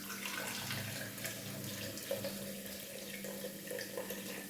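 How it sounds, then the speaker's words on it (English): Beef broth left from cooking oxtail pours steadily into a dish of food, filling a hollow in the middle, a continuous trickling, splashing stream heard close up with no talking. "and then I'll add in the beef broth"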